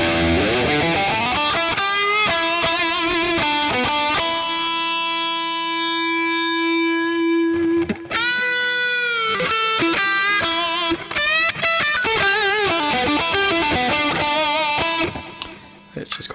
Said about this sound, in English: I'll just put it on this with a bit more echo.